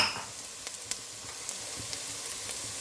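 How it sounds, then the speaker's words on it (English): Celery tossed into a pan where garlic and onion are already sautéing, giving a quiet steady sizzle with a few soft stirring clicks, fairly faint and without talk. "saute them together with the garlic and the onion"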